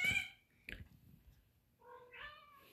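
A house cat meows near the start, then after a short pause gives a longer, drawn-out wavering meow, fairly close, with faint household background between the calls.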